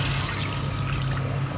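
Water pours into marinated mutton in a pressure cooker, a close, steady splashing stream with a low hum beneath it.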